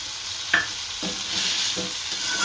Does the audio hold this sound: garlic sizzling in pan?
yes